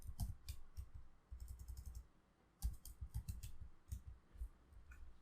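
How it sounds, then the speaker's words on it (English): Quick bursts of keystrokes on a computer keyboard as a command is entered at a command line, clattering in short clusters separated by a pause, close and fairly quiet with a low background hum. "type dir to locate the new patch2 file"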